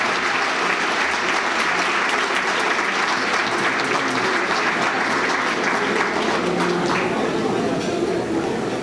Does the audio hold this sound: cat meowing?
no